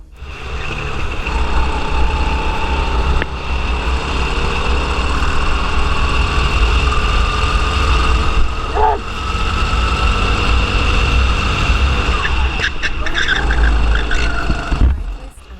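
Racing kart engines in a race in France drone loudly and steadily for the whole stretch, with high whining pitches that shift as the karts pass.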